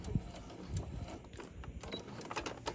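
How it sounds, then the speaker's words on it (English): Sewing machine back stitching and then stitching forward through fabric and a foam bookmark, a steady rapid mechanical rattle at close range, running alone without talk. "I'm going to do a few stitches. And I am going to back stitch. And I'm going to go sew right over."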